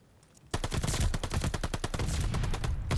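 A rapid automatic weapon fires in Call of Duty: Vanguard, a sudden loud burst of evenly spaced shots that starts after a brief quiet moment and keeps going in fast, close, punchy rhythm.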